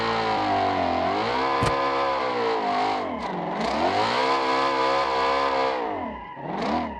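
A Ford car engine in the video game BeamNG.drive revs steadily with rising and falling pitch, loud and close, with a sharp shift midway and a final surging rev.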